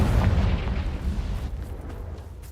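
A booming, rumbling blast from the Confringo explosion spell in the Hogwarts Legacy video game, loud at first and then decaying into a noisy tail over a couple of seconds.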